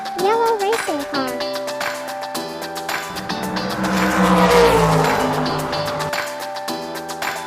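A yellow toy racing car screeches its tires, a rising engine surge with squealing building to a loud burst in the second half before fading back into a patterned tonal backdrop.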